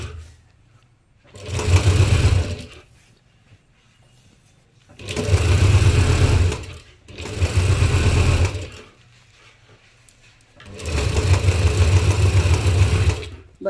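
A sewing machine stitches the side of a cloth bag in four separate bursts of steady motor whirring, each lasting one to two seconds, with short quiet pauses between them, close and clear with no talking.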